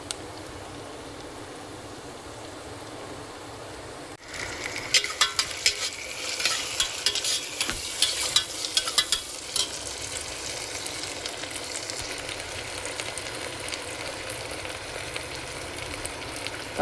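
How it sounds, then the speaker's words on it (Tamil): Onions for chicken biryani fry and get stirred in a pan: a steady hiss that turns into a busier sizzle with repeated scraping strokes after a few seconds, close and continuous with no talk. "இப்போ வெங்காயம் கொஞ்சம் நல்லா பொன்னிறமாக வதங்கணும்."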